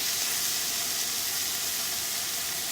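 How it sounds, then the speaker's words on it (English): Steak sears in a Pampered Chef cast iron skillet with a steady, loud, broadband sizzle that holds evenly throughout without pause. "so that you're just going to sear it"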